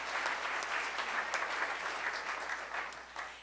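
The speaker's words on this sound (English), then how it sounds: "Let's give her a round of applause." A Rotary Club luncheon audience applauds to welcome a member back, a dense, steady patter of many hands clapping together at moderate volume, tapering off at the end.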